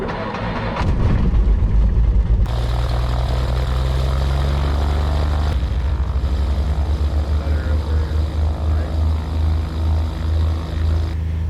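A loud, steady Cessna 182 propeller engine drones throughout, with a deep pulsing throb and some wind noise, rising in intensity partway through.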